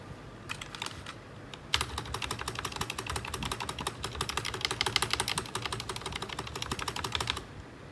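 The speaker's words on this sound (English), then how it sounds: "now I'm gonna show you guys how the bass stabilizer of this keyboard sounds" Spacebar on a cheap budget keyboard, its stabilizer rattling as it is pressed over and over in a fast, steady clatter of close, sharp clicks, with a short pause early before continuous tapping resumes.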